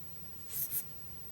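Pen writing letters on paper, a quiet close scratch of two quick strokes over faint room noise.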